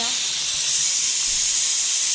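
A pressure cooker vents steam while aviyal cooks on the stove, giving a steady, loud, continuous hiss throughout with no pauses and no speech.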